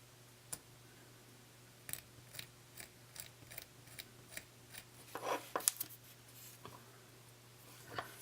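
A hobby knife shaves plastic from a boxcar model kit part in short, faint scraping strokes, spaced about every half second, with a brief busier rustle near the end.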